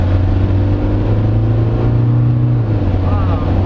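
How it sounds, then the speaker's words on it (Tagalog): A 3-liter Isuzu MU-X diesel engine revs steadily and loudly up close, with a strong low drone held throughout and a slight dip in pitch near the end. "the highs of a 3-liter engine"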